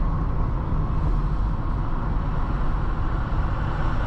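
A car drives at night along Veterans Boulevard in Metairie, Louisiana. A steady, dense low rumble of engine and road noise holds unbroken throughout with no voices.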